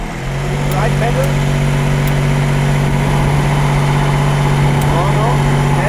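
A Mercedes-AMG ONE hybrid supercar with an F1-derived engine idles with a steady, loud low drone and a constant mechanical hum that stays even throughout.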